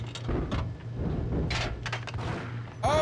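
Gunfire rings out in the Max Payne video game, several sharp shots and bangs scattered over a low rumbling background, with a louder burst at the end.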